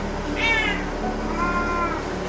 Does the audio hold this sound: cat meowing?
yes